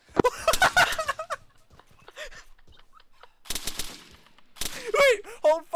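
Bursts of machine gun fire in an Arma 3 video game, loud stuttering volleys mixed with excited shouting voices and chaotic battle noise.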